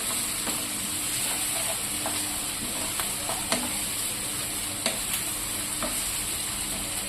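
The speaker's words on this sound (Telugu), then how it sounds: "మనం కొద్దిగా సాల్ట్ వేసి ఫ్రై చేసుకున్నామండి." Frying with salt for an aloo bonda filling makes a dense, continuous sizzle and hiss in the pan, with scattered clicks from the spoon and no one speaking.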